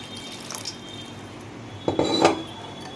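Water is poured into pancake batter while it is whisked in a bowl. Soft clinks come first, then a short, louder splash and swish near the end, close and alone.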